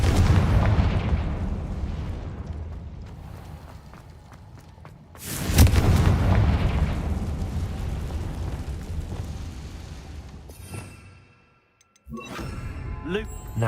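The Confringo blasting spell in Hogwarts Legacy sets off a loud burst that booms and then rumbles, fading over several seconds before a second, smaller blast. Game sounds follow.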